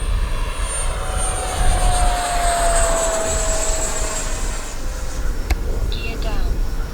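A Freewing Hawk T1 RC jet in Red Arrows livery flies past at full speed, a loud continuous ducted-fan whine sweeping in pitch as it passes, heard outdoors with steady background rush throughout.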